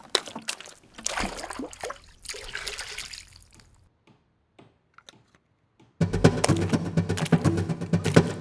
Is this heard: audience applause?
no